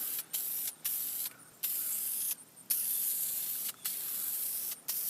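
Spray dye paint for BMW or Mercedes interior trim hisses from an aerosol can in short and longer bursts with brief gaps between them, close and steady, with no talking.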